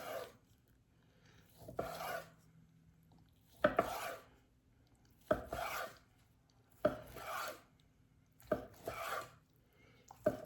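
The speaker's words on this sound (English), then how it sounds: "I'm just gonna slice it." A knife slices through smoked brisket from an insulated gravity smoker, five or six separate rasping strokes spaced about every second and a half, fairly quiet with short pauses between cuts.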